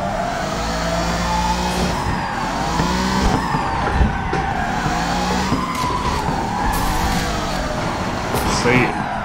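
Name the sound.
drift car skidding with tire squeal at Furidashi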